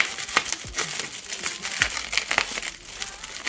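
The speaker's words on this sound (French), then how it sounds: "Donc on va l'ouvrir tout de suite." Crinkling plastic and cardboard from an 8 kg airsoft parcel being opened, a close stream of irregular rustles, crumples and tearing snaps with no talk.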